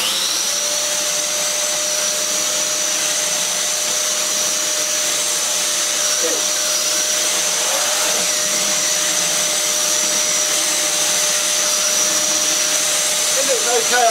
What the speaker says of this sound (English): So I have my deep pile carpet down. See what the turbo brush does.